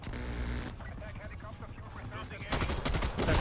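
Rapid automatic fire from the KSP submachine gun in Black Ops Cold War rattles in dense bursts throughout, loud and continuous, growing heavier toward the end amid game effects, with a player's voice talking over parts of it.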